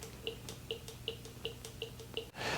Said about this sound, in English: You can hear the horn trying to work.